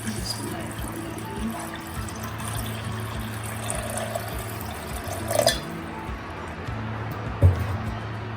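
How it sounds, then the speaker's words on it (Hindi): Water, roughly four glasses, is poured into a pot of salted meat stew seasoned with black pepper and lemon juice, giving a soft continuous splashing with a couple of brief louder clunks near the end. "अब हम एंड पे शामिल करेंगे पानी, तकरीबन 4 ग्लास में पानी शामिल कर रही हूँ।"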